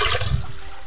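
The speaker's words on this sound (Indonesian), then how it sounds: "Kita siram lagi." Water pours and splashes briefly onto a coconut bonsai, a short gushing spill that trails off.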